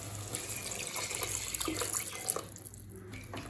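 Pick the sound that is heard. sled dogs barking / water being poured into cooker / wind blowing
water being poured into cooker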